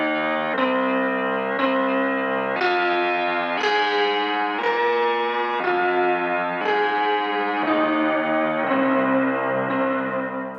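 A sampled tonal sound from a 2hp Play module steps through a sequence of sustained pitched notes, each washed in heavy reverb and blurring into the next.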